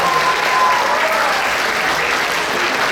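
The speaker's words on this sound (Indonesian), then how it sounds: "Jadi kita beri satu aplaus yang meriah untuk Yang Mulia Bante." Enthusiastic applause for a venerable Bhante after a Dhamma talk, a dense crowd clapping loudly and continuously from start to finish.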